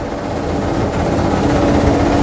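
A Japanese rice polishing machine turns brown rice white with a loud, steady mechanical whirring and grinding drone, close and unbroken for the whole stretch, with no talk over it.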